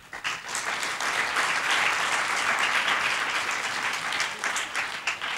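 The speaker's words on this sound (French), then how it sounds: "que je demande d'applaudir très fort" An audience at a school excellence celebration in Ouakam Camp applauds loudly and continuously, a dense wash of many hands clapping together from start to finish.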